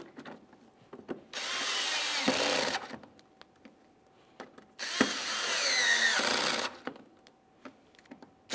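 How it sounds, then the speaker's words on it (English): Power drill driving bumper cover mounting screws into a 2008-2017 Buick Enclave, two sustained bursts of whirring with tapping and handling noises between, close and fairly loud, no talking. "Put in your mounting screws across here and do the exact same thing on the other side of the vehicle."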